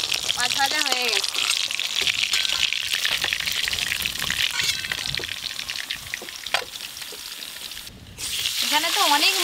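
Fresh bhangan river fish fry in hot oil with a loud, continuous crackling sizzle, while a person speaks briefly at the start and again at the end.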